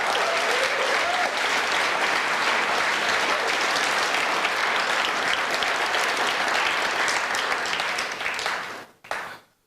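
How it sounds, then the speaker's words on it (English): Large audience at a political speech applauding, dense sustained clapping that fills the space evenly for about nine seconds before tapering off abruptly. "Are the people clapping"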